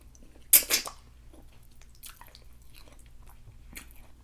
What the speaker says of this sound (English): the only time I'll chew the fufu is if